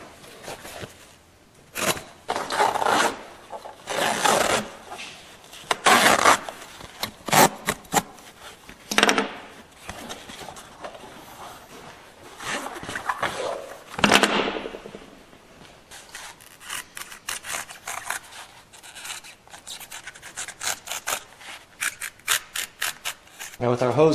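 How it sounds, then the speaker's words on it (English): Rubbing and rasping bursts of a blade cutting through an old hose and peeling its outer layer off, used for a crosscut saw sheath, close up with irregular scraping strokes and someone talking at times. "we'll cut this off, we'll strip off the outer, throw that away"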